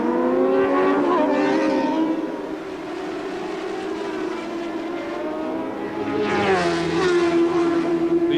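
Racing motorcycles, a Kawasaki among them, scream past at a 1988 Seniorstock 600 race, loud high-pitched engine wails that rise and fall as bikes close in and pass, with a commentator's voice faint underneath.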